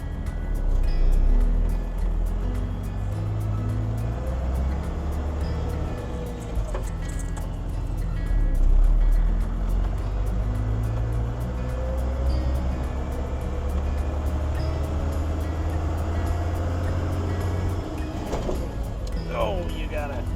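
A Cummins-powered Chevy truck with a manual gearbox drones along at low revs, its engine swelling and easing as gears are changed, steady and heavy, with voices talking over it in the cab.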